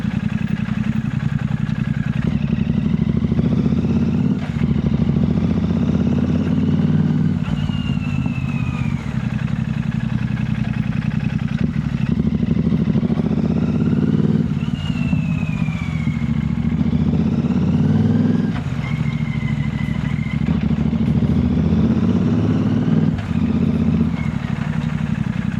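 A Royal Enfield Goan Classic 350 motorcycle cruises on the road from Delhi to Gurugram, its engine drone steady and close, with rising and falling whines, passing traffic and a few clunks.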